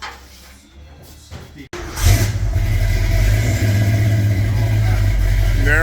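Ford F100 race motor with a turned-down drag racing exhaust fires up and revs hard, a loud, deep, continuous roar after a quieter lead-in, with a voice talking briefly over it.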